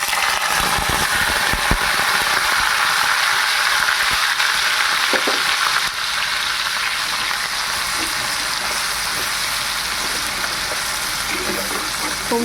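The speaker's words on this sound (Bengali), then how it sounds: "এখানে ফোড়ন হিসেবে দেব অল্প একটু গোটা জিরে, তারপরে দিয়ে দিচ্ছি পেঁয়াজ" Whole cumin seeds and onion frying in hot oil in a home kitchen pan, a loud, steady hiss and crackle heard up close, with a few faint clinks and stirring sounds.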